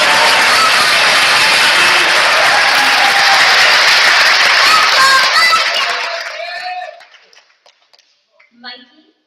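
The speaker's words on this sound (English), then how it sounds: "For that reason, let's give Mikey a round of applause." A graduation audience at a charter school for the arts applauds a graduating student, with loud sustained clapping and cheering from a large crowd that fades out after several seconds, followed by near silence.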